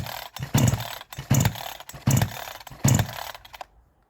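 A 62cc Chinese chainsaw engine being pulled over, with four or five sharp bursts that each catch and sputter briefly before it dies away into quiet, heard close up.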